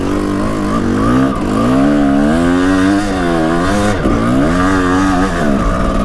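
A Kawasaki KX250 dirt bike engine heard from the rider's position on an enduro trail, loud and continuous, its pitch rising and falling steadily as the throttle opens and closes, with no voices.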